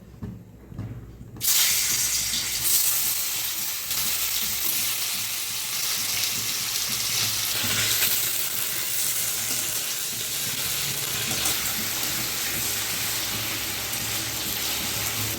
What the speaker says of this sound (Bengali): তেল গরম হয়ে গেছে, পনিরটা ভেজে নেব।